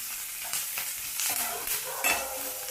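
Onions fry in oil in a pan for a Kannada ridge gourd curry, a soft steady sizzle broken by several scraping stirs of a spatula, close and fairly quiet.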